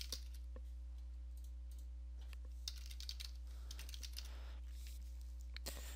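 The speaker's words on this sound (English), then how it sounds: "we're going to type in PowerShell" Someone types on a Windows 10 computer keyboard, giving a sparse run of quiet, close keystrokes and clicks over a low, steady electrical hum, with no talking.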